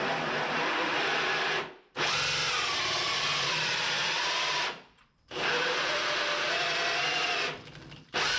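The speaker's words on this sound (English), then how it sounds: "So let me drill that hole real quick." A power drill boring a hole in the exterior of an ICF house runs in three long, loud, steady bursts, each stopping abruptly and starting again after a short pause.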